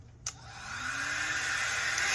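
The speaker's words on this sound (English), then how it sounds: "it sounds like a blow dryer" A Revlon air kit blow dryer runs on its cool setting with no heat, starting with a brief click and then settling into a steady, loud whirring airflow hiss that holds close and constant.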